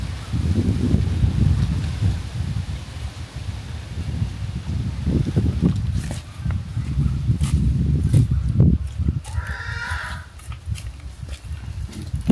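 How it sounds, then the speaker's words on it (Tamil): Gusty wind buffets the microphone outdoors with low rumbling and some rustling, loud and continuous, with a brief faint sound near the end. "பார்த்துனே காற்றடிக்குது"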